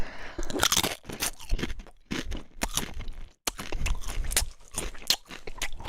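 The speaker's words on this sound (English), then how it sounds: "Shout out to me eating Doritos." Doritos chips crunch loudly and close as someone chews, sharp crackling bursts coming in quick irregular bites with brief pauses between them and no talk.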